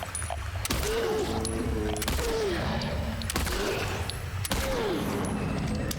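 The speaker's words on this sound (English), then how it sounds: "Can I shoot it? Oh, you can. You can shoot it." Gunshots in the video game Silent Hill 2, four loud, sharp blasts spaced about a second and a half apart, each followed by a creature's wavering moan.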